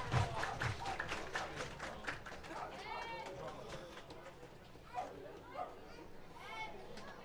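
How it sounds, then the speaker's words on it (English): A baseball crowd claps hands in quick rhythmic bursts, loudest at the start and thinning out later, beneath a commentator's voice and general stadium chatter. "Everybody clap your hands."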